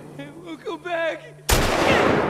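Enemy gunfire in The Last of Us Part II erupts as a loud, sudden shot with ringing decay right after a short spoken line.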